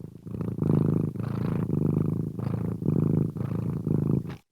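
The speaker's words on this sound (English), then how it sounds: "That was just a cat." A cat named Moshi purrs right against a microphone in loud, close, rhythmic pulses, about eight breathing cycles in a row with brief gaps between, then cuts off abruptly.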